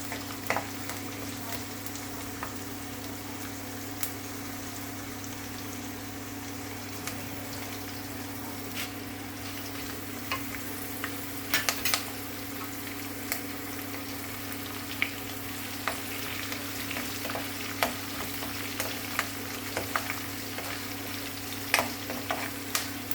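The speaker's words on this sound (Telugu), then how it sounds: "మినపప్పు ఆవాలు జీలకర్ర వెల్లుల్లిపాయ మిరపకాయ కరివేపాకు వేసుకోవాలి" Urad dal, mustard seeds, cumin, garlic, chilli and curry leaves frying in oil, a steady crackling sizzle with scattered pops and occasional stirring scrapes throughout.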